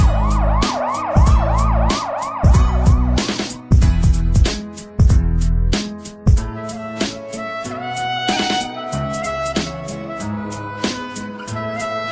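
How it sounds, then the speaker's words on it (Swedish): Wailing and yelping siren sweeps blare loudly over a pounding music beat, the electronic tones rising and falling in quick repeated cycles. "I skott av pengen med högljudda sirener."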